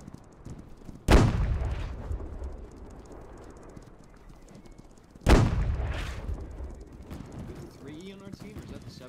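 Two heavy artillery blasts boom in a Men of War battle, each sharp crack trailing into a rumbling decay about four seconds apart, over a low battlefield din with faint clatter.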